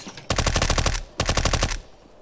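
Two rapid bursts of Uzi submachine gun fire in the CS:GO video game, sharp and loud, each lasting about a second with a short gap between.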